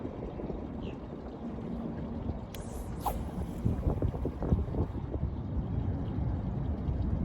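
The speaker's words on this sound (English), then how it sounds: "the wind's blowing north-northeast, so it's blowing into that grass" Wind blowing north-northeast across a lake during fall bass fishing from a boat, a steady low rumbling buffet on the microphone with faint water lapping and a few brief higher clinks in the middle.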